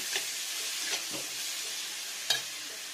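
Fish curry ingredients sizzle and hiss steadily in a hot pan while being sautéed together, with a few soft scraping stirs of the spatula breaking through the frying.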